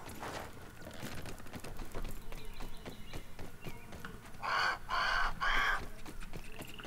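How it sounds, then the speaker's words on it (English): A bird creature in the video game Grounded gives three loud, harsh squawking calls in quick succession. The calls rise out of busy in-game background sound. "there's that bird"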